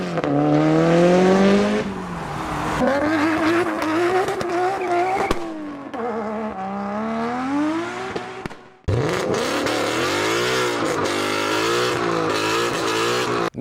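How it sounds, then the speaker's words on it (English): Car engines in turn, a V8, a 4-cylinder and a 6-cylinder, rev loudly and close up, each rising and falling in pitch, with sharp cuts between the three engine sounds. "let's compare a V8 engine to the sound of a 4-cylinder and a 6-cylinder"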